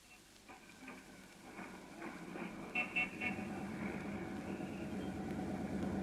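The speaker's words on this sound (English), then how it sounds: "Riding home like this on top of a bus?" City traffic around a bus in a 1936 radio drama: a low engine rumble and idling hum runs throughout, with a few short car-horn toots near the middle, all faint and distant.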